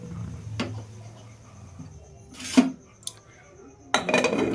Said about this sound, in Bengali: ঢাকা, এবার ঢাকাটা তুলে নেব